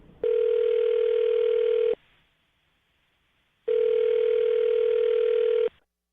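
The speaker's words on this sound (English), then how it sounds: "I'm going to dial her phone number right now" Outgoing telephone call being placed: two long, steady ringing tones of about one and a half seconds each, separated by a short silence, clear and alone with no talk.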